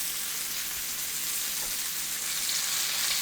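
Beef browning in a hot pan for beef Wellington, a dense, even sizzle close up and constant throughout, with no voices.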